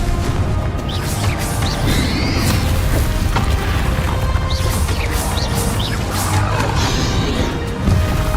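A Confringo fire spell blasts in Hogwarts Legacy during a dragon boss fight, a dense, loud roar of crashing, booming impacts and crackling bursts that keeps going for the whole stretch with no gaps.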